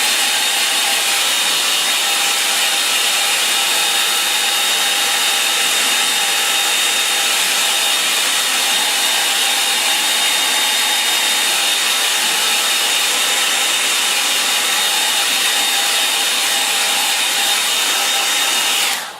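A hair dryer blows steadily on a watercolour painting of a marsh scene, a continuous loud broadband whoosh with a faint whine held for the full stretch, no voices over it.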